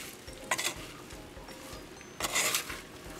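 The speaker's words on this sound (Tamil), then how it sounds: "நல்லா கலந்து போட்டு மூடி விடுவோம்." A Jaffna-style long beans curry being stirred in a pot and covered with a lid, giving soft scraping stirs with two brighter metallic clinks of the lid, one early and one louder near the end, over a faint sizzle.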